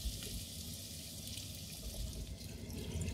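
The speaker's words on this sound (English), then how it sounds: "Add water to cover everything." Water pours into a pot of fried vegetables and chopped potatoes for soup, a soft continuous splashing rush, faint and steady throughout with no talking.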